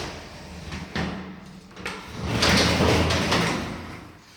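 A cupboard door in an empty apartment's bathroom swings open, making a soft knock and then a longer, rising sliding and rubbing sound, close and moderately loud, with no talking.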